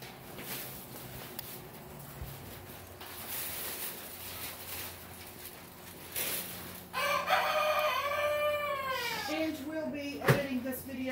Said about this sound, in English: maybe she can edit out all the crowing